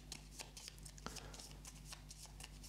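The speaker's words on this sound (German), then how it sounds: "Den Rest muss ich mischen." Cards from the board game HUNTED: Kobayashi Tower being shuffled by hand at close range, a run of quick soft riffling and rustling bursts over a steady low hum.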